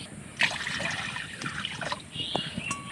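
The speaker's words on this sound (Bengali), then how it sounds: "তো তার জন্য এই কাঁসার বাটি করে 2 বাটি জল দিয়ে দেবো" Water is poured from a brass bowl onto sugar to make syrup, a close, continuous trickle and splash lasting a few seconds, with faint background noise.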